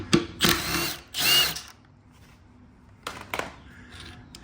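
A ratchet wrench with a 10 mm socket works loose the fuel tank bolt on a BMW S1000RR motorcycle, giving two loud close bursts of rapid clicking, then softer clicks and faint handling noise.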